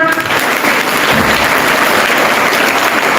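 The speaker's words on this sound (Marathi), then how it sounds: "बरोबर, टाळ्या वाजवा." A room full of people at a kirtan in a school claps steadily, a dense burst of applause lasting a few seconds.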